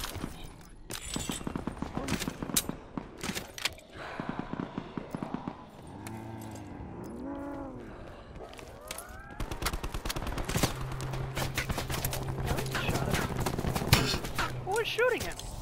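Rapid bursts of gunfire ring out in Call of Duty Blackout, sharp repeated shots in clusters, loud and near, broken by whooshing game effects, with people talking over the action.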